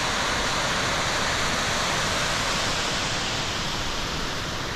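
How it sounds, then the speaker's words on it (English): Water spilling over a small weir at the end of a reservoir in the Peak District, a continuous loud, even rushing roar with no break. "There's a cute little weir."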